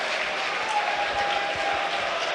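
Leeds United fans in the stands give warm applause for new signings warming up on the touchline, a steady, even wash of clapping and crowd noise throughout with no clear talk over it.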